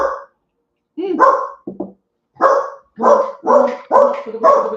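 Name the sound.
dog barking at someone arriving home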